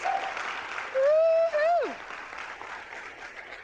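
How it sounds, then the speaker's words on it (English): Standing ovation for speakers at the AFRL Inspire 2022 event, a steady wash of clapping from a small room with a loud whooping cheer rising and falling over it, then the applause continuing alone. "Let's give them a round of applause"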